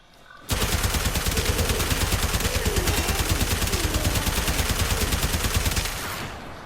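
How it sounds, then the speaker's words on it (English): Rapid, loud, continuous bursts of Fulmin shotgun-mode gunfire in the Warframe video game, a steady rhythmic stream of shots lasting about five seconds before cutting off. "it took us, what, 7 shots, we'll say, to absolutely wipe out all of these with the shotgun mode"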